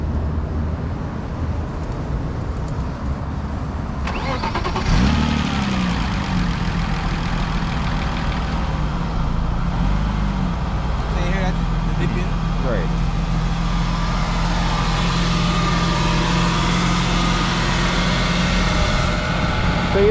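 A BMW car engine idles with a steady low rumble throughout, some uneven surges suggesting a rough idle, while people talk nearby over the running motor.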